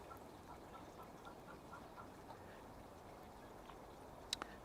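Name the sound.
hens cackling after laying an egg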